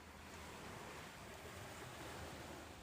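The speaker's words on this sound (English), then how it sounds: "The waves roll slowly toward shore, then drift gently away again, steady, endless." Ocean waves rolling to shore as a steady, even wash of broadband surf noise, soft and continuous with no distinct breaks, heard alone.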